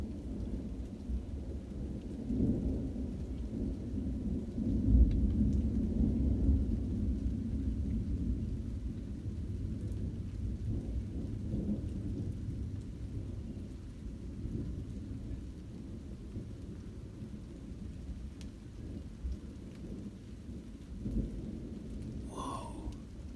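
A thunderstorm in Seaford, UK, at night: steady rain patters throughout beneath low, continuous rolling thunder, with one heavier rumble swelling early on before settling back into a distant grumble.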